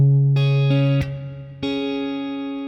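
Fingerpicked guitar notes ring out in a short pattern: plucked strings, then a muted thumb slap that cuts the sound to a dull thud, then plucked notes ring out again. The guitar is heard alone, with no talking.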